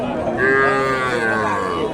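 A cow moos loudly and close by, one long drawn-out call over the low murmur of a crowded cattle market in Bangladesh selling local and Friesian and Sahiwal bulls.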